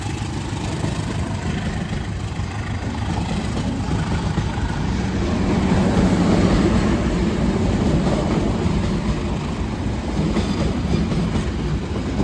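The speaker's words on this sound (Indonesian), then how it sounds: "Kereta api Airlangga berangkat." The Airlangga passenger train departs and rumbles past nearby on an Indonesian railway, its wheels rolling steadily on the rails with a low continuous roar that swells slightly midway.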